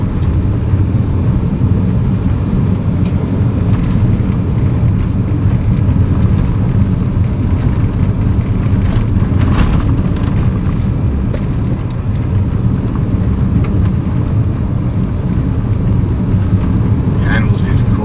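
A Ford Ranger Wildtrak on highway tires drives a rough gravel road down toward Oberg Pass, giving a steady, loud rumble of engine and tires crunching over gravel for the whole stretch, with no break in the noise.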